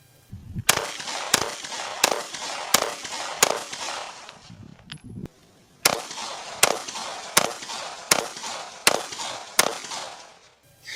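Pistol shots from a Walther PDP compensated model and a Smith & Wesson M&P ring out as two strings of sharp, loud reports, about six evenly paced cracks in each, split by a short pause.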